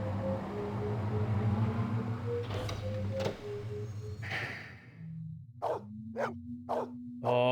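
A dog in the Blade Runner video game gives a few short, sharp barks near the end, following an earlier stretch of steady mechanical hum and sliding, clunking sounds.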